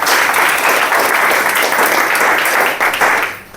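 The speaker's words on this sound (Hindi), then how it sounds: "सर के लिए एक बार जोरदार तालियां।" Loud, sustained applause from a health products training audience, steady clapping filling the room before tapering off near the end.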